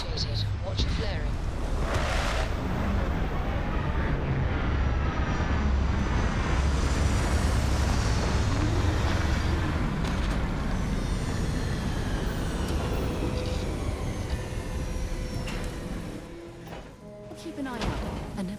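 A spaceship landing in Starfield gives off a long, loud, roaring engine wash with rushing air, and a voice comes in briefly before the rumble eases near the end.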